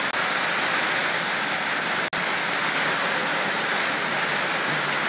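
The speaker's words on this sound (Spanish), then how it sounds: "nos arruinó el directo la lluvia" Steady rain falls on a surface, a dense and even hiss of drops that stays loud and unbroken apart from one sudden momentary cutout partway through. Nobody speaks.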